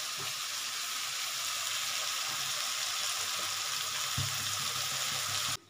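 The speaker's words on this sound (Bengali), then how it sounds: "এই যে আমি যে এটা একটু ভাজা ভাজা হয়ে গেছে, আমি একটু নেড়ে দিচ্ছি" Bombay duck (lote fish) curry frying in a pan while being stirred, a steady close sizzle with soft scraping stirs and no voices.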